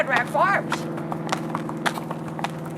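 Horses on a farm trail ride clip-clop in a steady walking rhythm, close and fairly loud, while a person speaks over the hoofbeats.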